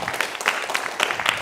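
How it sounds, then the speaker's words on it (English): Scattered clapping from a small audience at a Pecha Kucha talk night, a loose patter of claps at moderate level with no voices over it. "give him one more applause"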